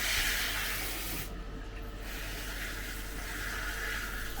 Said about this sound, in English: I'm just going to wash the corn first.